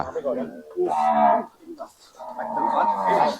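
Cattle lowing at a livestock market, two long drawn-out moos close by with short gaps and background murmur.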